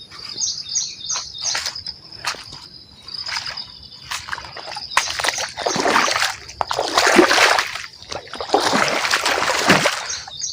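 Rain floodwater flowing down from a pond rushes and splashes in surging bursts, growing louder, while insects buzz steadily in the background.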